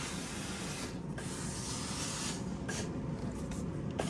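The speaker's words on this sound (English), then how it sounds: "But first, I do like to just steam it just to press it." A steady hissing, rushing noise runs continuously with faint soft rustles as a steam iron presses across fabric close by.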